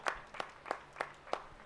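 Sparse, slow claps from spectators at a local tennis-ball cricket tournament, about six distinct hand claps spaced evenly, faint and fairly distant, with no voices.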